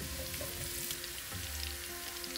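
Thinly sliced coconut and turmeric fry in hot oil for an amara payar mezhukkupuratti, giving a steady close sizzle with light stirring clatter throughout.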